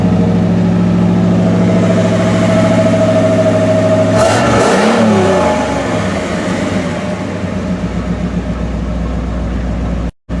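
A 1984 Camaro Z28 engine runs steadily with its cooling fan going, a loud, close, even drone that swells with a brief rev midway, then settles back to a rough, pulsing idle before cutting off abruptly.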